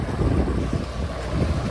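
Wind buffets the microphone aboard a sailboat crossing the Cyclades from Ios to Paros in Greece, with choppy waves sloshing against the hull in a constant, close, rumbling rush.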